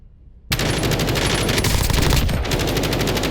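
Machine gun fire in the Call of Duty video game bursts in abruptly after a brief silence, a loud, rapid, continuous stream of shots lasting nearly three seconds.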